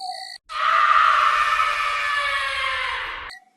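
A long, drawn-out human scream used as a sound effect in a Hindi horror story, one sustained wailing cry lasting about three seconds, loud and alone after a brief break, fading out at the end.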